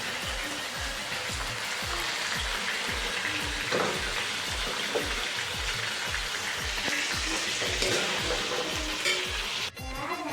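Potatoes sizzle steadily in hot oil in a wok while a utensil stirs and scrapes them in a regular rhythm, close and continuous, with a sharp clank near the end.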